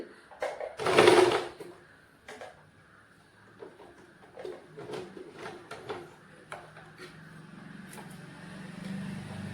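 A sewing machine stitches along a folded hem edge in short, quiet runs of mechanical whirring and ticking, with one louder burst near the start and no talking.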